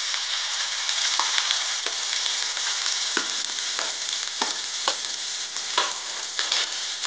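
Chopped spring onion frying in a pan with garlic and cumin, a continuous loud sizzle with scattered sharp crackles and occasional scraping stirs, no voices.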